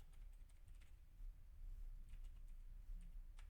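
Quiet, rapid tapping of keys on a computer keyboard, irregular clicks over a low background hum, with no voices.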